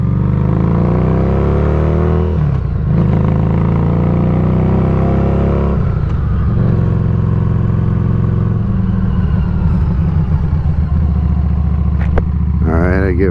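A Street 500 motorcycle rides along the road on the way to work, its engine droning loudly and steadily with rising and falling revs as gears shift, wind noise across the helmet microphone constant throughout.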